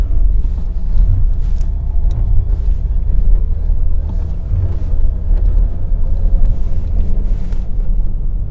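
A 2023 Mercedes EQS electric SUV rolls along an icy road, a continuous low rumble of tyres and cabin noise with no engine note, steady throughout.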